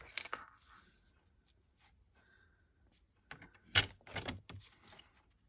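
A paper trimmer slices cardstock diagonally from corner to corner while a Stampin' Up! card is being made, giving a brief handling rustle and then a short burst of sharp cutting and sliding scrapes near the end.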